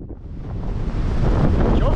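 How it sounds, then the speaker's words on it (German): Strong wind buffeting the microphone on the Applecross mountain pass in the Scottish Highlands, a loud rushing roar that builds steadily and stays close and heavy. "der Wind hier ist so heftig"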